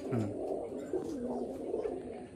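Pigeons coo steadily in a loft near Baruipur, low throaty calls rolling over one another close by with no talk.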